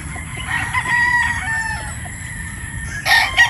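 A broodstag rooster crows a couple of times over a noisy outdoor background, with clucking nearby and the last crow louder.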